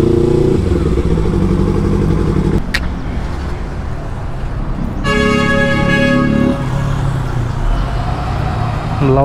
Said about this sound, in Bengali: আরে বাইক রে প্রচুর পরিমাণে বাইক